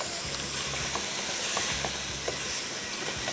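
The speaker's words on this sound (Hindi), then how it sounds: "यहाँ पे आ जाते हैं और बीफ की भुनाई करते चले जाएंगे।" Beef mince fries in a pan with a steady sizzling hiss, broken by a few scraping stirs of a spoon near the close.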